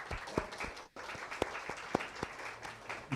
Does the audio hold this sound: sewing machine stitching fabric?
no